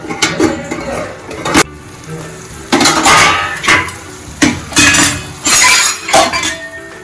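A utensil stirs cooked vaseti greens in a metal pan, producing repeated clinks and scraping bursts in an uneven rhythm, close and loud, with no voices.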